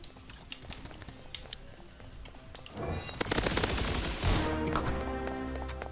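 Rapid automatic gunfire in a video game duel, a dense burst of rattling shots starting midway and continuing loud to the end, with scattered single shots and game sounds before.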